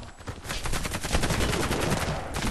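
Rapid automatic gunfire in the online shooter Warface rattles out as a dense, continuous burst of loud, close shots, with no talk over it.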